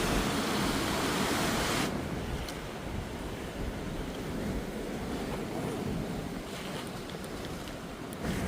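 Violent seas crashing on rocks at night during heavy rain, with gusting wind: a loud, continuous broadband roar that eases slightly after the first couple of seconds and carries on without any talking.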